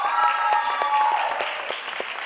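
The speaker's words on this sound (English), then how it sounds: "she's just receiving our whole lots of claps and gratitude" An audience in a school auditorium claps steadily for a teacher at a dance program, dense applause that fills the whole stretch, fading slightly toward the end.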